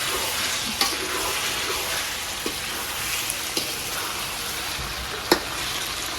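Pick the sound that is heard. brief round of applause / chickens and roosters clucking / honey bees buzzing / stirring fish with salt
stirring fish with salt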